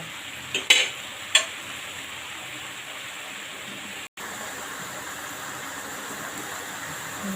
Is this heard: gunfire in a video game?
no